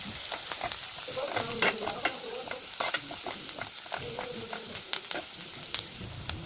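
Finely chopped onions and curry leaves sizzle and fry in oil in a pan, a steady crackling hiss broken by repeated scraping stirs, close and without talk.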